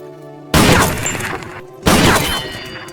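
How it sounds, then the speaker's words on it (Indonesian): Two sudden, loud sniper rifle shots from a war film strike targets, each a sharp broadband crack with a crashing, shattering tail, spaced about a second and a half apart with no talking. "Zarin pun dengan sigap menembak semua target tanpa satu kali pun melesat dari targetnya"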